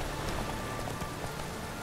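Steady rain in The Witcher 3 at a farmstead, a soft continuous hiss of falling drops that holds an even level throughout, with no voices.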